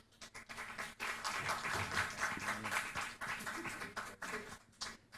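At a forum, an audience applauds a speaker with sustained, moderately loud clapping that rises and dips through a few seconds, heard in a reverberant room.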